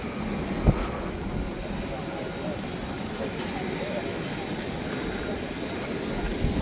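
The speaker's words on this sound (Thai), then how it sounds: "นี่คือเครื่องบินที่เราจะขึ้นไปนะคะทุกคน" A large airliner at an airport before boarding for a flight to Greece gives a steady broadband engine roar and rushing wind throughout, with a single sharp knock near the start.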